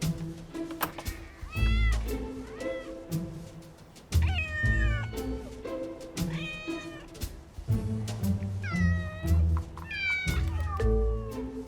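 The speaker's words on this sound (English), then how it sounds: "There are about 40 feral cats living in the wasteland behind this house, reliant on Andy and Michael's kindness." Feral cats living on a wasteland behind a house meow repeatedly, several loud, close, drawn-out meows and a few caterwauls arriving in clusters with short quiet gaps between them.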